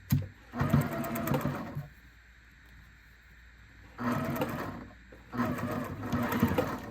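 A household sewing machine stitching fabric for a pediatric port shirt, whirring in two close, loud bursts separated by a quiet pause while the thread snags, with no speech.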